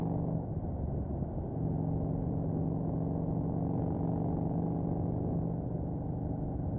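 Motorcycle descending Mount Lemmon toward the valley floor, a steady low engine drone with wind rumble, close and constant, no voices.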